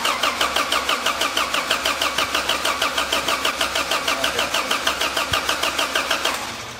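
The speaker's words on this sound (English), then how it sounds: "let's see if this thing fires up" A turbocharged 2017 Honda Civic Si, tuned with Ktuner, running 24 psi of boost on stock compression, cranks over in a steady, rapid rhythmic churn for about six seconds before cutting off.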